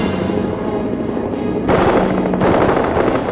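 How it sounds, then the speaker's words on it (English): Rapid bursts of WWI fighter aircraft machine-gun fire, a synchronized gun shooting through the propeller arc, sounding loud and close as dense crackling rattles over a steady engine drone, with a sharper burst partway through. "This allows the gun to fire only in the interval when no blade is in front of the muzzle."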